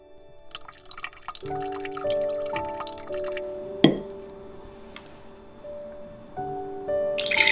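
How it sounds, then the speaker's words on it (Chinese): Leftover pork broth is strained in a kitchen, giving soft close dripping and trickling liquid sounds over a quiet background with faint tonal music. "剩下的肉汤过滤备用。"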